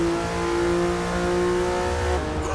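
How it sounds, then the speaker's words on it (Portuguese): A Porsche 911 Turbo S, class S725, holds a steady, loud engine drone in Forza Motorsport 6, its tone sustained and then shifting near the end, with no talking. "Um Porsche, né? 911 Turbo S, ele é de classe S725. Muito bom. O som do motor"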